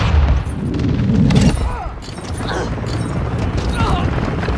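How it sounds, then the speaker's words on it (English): An RPG rocket blows up in a military shooter video game, a heavy boom under loud gunfire and battle noise, with game voices calling out over the chaos. "RPG, take cover!"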